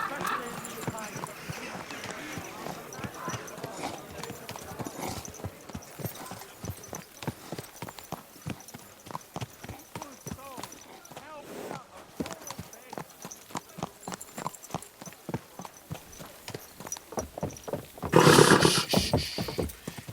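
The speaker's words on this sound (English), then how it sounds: "Easy, good horse." Horse hooves clop in a steady rhythmic gait in Kingdom Come: Deliverance 2, with distinct thuds running through most of the stretch. Spoken dialogue sits over the hoofbeats, and a louder burst of noise arrives near the end.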